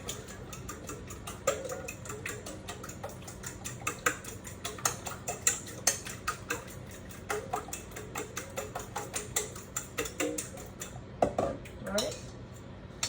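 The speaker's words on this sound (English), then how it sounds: "So you want to beat the eggs." A fork beats eggs in a bowl for the start of corn bread fritters, giving quick, steady clinking and tapping against the bowl that repeats close up and fairly softly.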